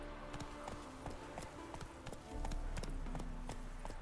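Roach, the horse in The Witcher 3: Wild Hunt, clops along at a steady rhythmic gait. Her hooves tap out close, even beats, and a low rumble joins them partway through.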